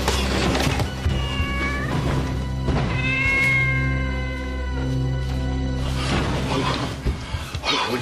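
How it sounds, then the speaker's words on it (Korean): A cat meows loudly in long, drawn-out wails across the scene in a Korean TV drama, heard alongside people talking. "저건 고양이 소리잖아요"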